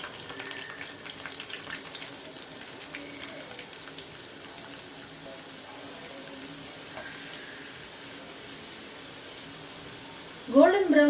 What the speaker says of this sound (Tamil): இப்போ நம்ம எண்ணெயில் ஃப்ரை பண்ணி எடுத்துக்கலாம்.